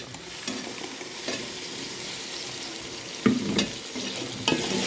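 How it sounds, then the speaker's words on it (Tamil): Onions and ginger-garlic paste frying in a pan for crab curry, a low steady sizzle with occasional sharp scrapes and stirs of a spoon, close and without voices. "வெங்காயம் நல்லா வதங்கிட்டு இப்போ இஞ்சி பூண்டு பேஸ்ட் சேர்த்துருக்காங்க"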